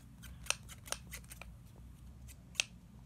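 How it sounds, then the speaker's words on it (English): A pair of scissors is handled up close, giving a few sharp metallic clicks and snips over faint background rustle, with no talking. "And next up we have these scissors."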